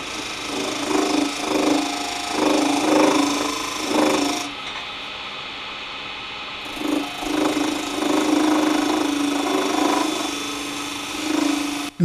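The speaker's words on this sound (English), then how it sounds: "The fading chatter tells me when it's true again." Metal lathe turning a cone that is being retrued, giving a rhythmic pulsing whir with chatter that rises and eases in waves over several seconds, loud and close, with no speech.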